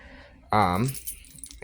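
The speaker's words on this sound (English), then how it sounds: "Keys." A set of keys jangles close by: a brief voiced sound gives way to a short metallic rattle and lighter scattered clinks that fade out.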